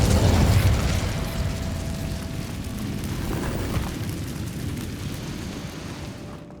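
A Bombarda spell explosion in Hogwarts Legacy bursts loudly at the start, then gives way to a long, dense rumble that slowly fades over several seconds, with no talking.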